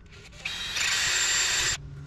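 A power drill whirs up and runs at high pitch for just over a second, pre-drilling a screw hole close by in a Sprinter van, then stops.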